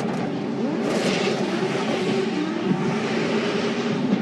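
A Scion FR-S drift car with a 2JZ engine tuned by Nameless Performance roars loudly and continuously during Formula Drift qualifying at Long Beach in 2015, a sustained, rasping engine howl heard from nearby.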